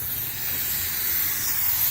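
A spray gun hisses steadily and continuously at close range during water transfer printing, a broad even airy spray with no voices.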